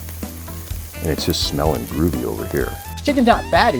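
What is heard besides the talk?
chicken sizzling on a grill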